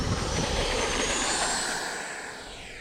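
Arrows RC Marlin 64mm PNP electric ducted-fan jet model flying close by, a loud, steady high whine and rush that fades slightly toward the end, with no voices over it.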